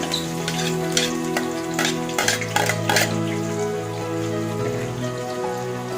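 Green chillies and onion frying in oil for vegetable upma, a bright crackling sizzle with intermittent spoon scrapes and clinks on the pan, close and steady, without speech.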